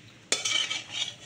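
Shing fish drop into a pot of boiling radish curry with a sudden splash, followed by bubbling and sizzling that carries on for about a second.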